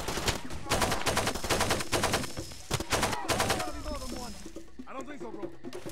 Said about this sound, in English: AK-47, baby.